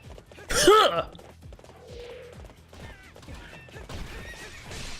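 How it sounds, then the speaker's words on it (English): A horse in the video game Hyrule Warriors gives one loud, shrill whinny, followed by steady clip-clop hoofbeats and faint game effects. "This is a very slow horse."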